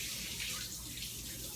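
Wort runoff from a mash tun on a home beer brew day, a soft steady trickle and splash of liquid flowing, faint and continuous with no talk.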